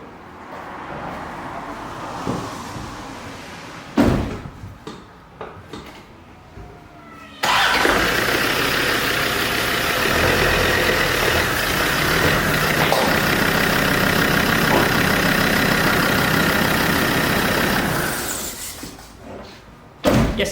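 An old Land Rover Defender cranks and fires after a few quiet knocks and door sounds, then settles into a loud, steady idle close by before the engine dies away.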